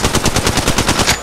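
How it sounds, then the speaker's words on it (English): Rapid automatic gunfire from the mobile shooter Apex Legends Mobile, a loud close burst of evenly spaced shots lasting just over a second, with no talk over it. "Listen up, I'm getting shot at."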